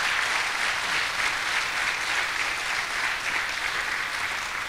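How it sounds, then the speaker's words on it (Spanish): A church congregation claps in praise of Jesus during a Spanish-language service: steady, even applause from many hands, continuous and fairly loud throughout without pause. "Un aplauso a Jesús,"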